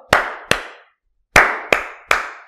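Children clapping at an online madrasa class, five sharp claps in two groups, two then a pause then three, close and loud with no talk.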